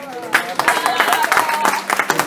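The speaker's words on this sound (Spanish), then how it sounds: "un aplauso aquí a la maestra" Attendees at an ethics and education course at Tec de Zacatepec give a brief burst of clapping for a teacher, mixed with people talking.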